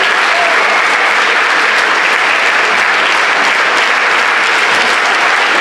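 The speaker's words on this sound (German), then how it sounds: "Wird jetzt bejubelt vom Publikum." Loud, steady applause and cheering from a wrestling crowd at a COW match, dense clapping that fills the hall without a break.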